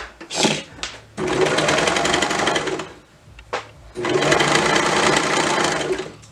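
A serger overlock machine stitches elastic onto fabric in two loud, steady runs of rapid mechanical whirring, with short bursts and a quiet pause between them.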